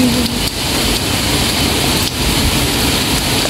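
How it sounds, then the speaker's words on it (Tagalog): Heavy rain falling on a house roof, a dense continuous wash of drumming and hiss, loud and close, with no talking. "pumapatak na naman ang ulan sa bubong ng bahay"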